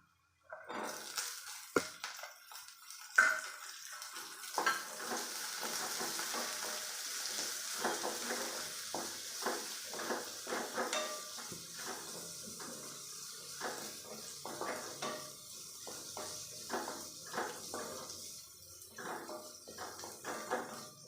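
Small onions sizzle in hot oil in a pan for beef roast, with a steady frying hiss under repeated close scraping strokes of a spoon stirring throughout.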